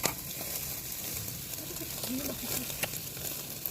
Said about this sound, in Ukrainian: Тут вже смажаться курочки.